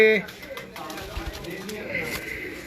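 Pigeons in a loft coo softly in the background, low, throaty calls under someone speaking nearby.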